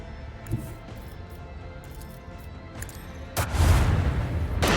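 Starship weapons fire in the Warhammer 40,000: Rogue Trader space combat, a low rumbling background suddenly breaking into a loud, broad blast that keeps roaring for the final second or so.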